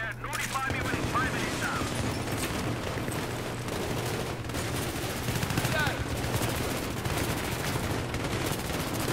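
Dense, sustained gunfire from a light machine gun in the Battlefield 3 campaign, loud and continuous with rapid bursts layered over battle noise and a steady low drone, with a voice briefly heard.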